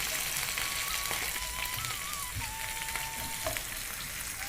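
Dried red chillies, curry leaves and chopped green chillies crackling in hot oil with ginger: a dense, steady sizzle with fine pops heard close up, and a faint whistling tone running through it, without speech.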